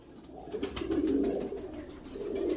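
A young pigeon gives soft, low cooing calls that rise and fall in a couple of murmuring phrases, close by and alone.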